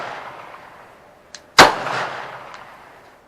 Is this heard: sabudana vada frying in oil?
no